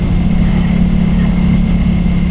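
A Ducati Pikes Peak motorcycle fitted with a full Akrapovič exhaust and no dB killer, riding along with a loud, steady, deep engine drone and no pitch change.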